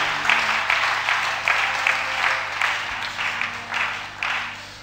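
A church congregation claps to acclaim the Lord, with a steady wash of applause that swells in rhythmic pulses about once a second over a low sustained hum, moderately loud and without clear speech.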